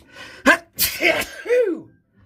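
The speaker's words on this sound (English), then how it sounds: "How about that bonus sneeze?" A single close, loud sneeze: a sharp intake of breath, an explosive burst, then a trailing voiced exhale that falls away into quiet.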